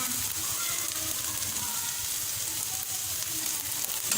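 Capsicum and onions sizzle steadily in a hot pan for a street-food egg burger, a dense, loud, continuous frying hiss with faint stirring and no voices.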